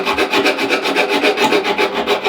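Steady rhythmic rasping of sandpaper scrubbing back and forth on the fiberglass of a surfboard fin, close and loud, with regular strokes and no voices.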